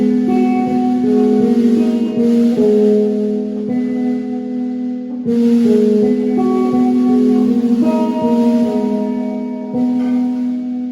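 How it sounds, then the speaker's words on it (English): Guitar noises drenched in high delay, distortion and reverb drone loudly and steadily, with sustained tones swelling and shifting over a thick smeared wash and no talking. "I just turn on the delay and distortion and reverb really high and make some noises."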